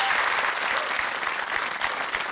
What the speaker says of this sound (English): So I think a round of applause for being such a great player.